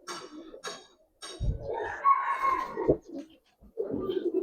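Old-breed Giribaz pigeons, silver and Pankhi, give several short, close coos and throaty calls in uneven bursts, with quiet gaps between them.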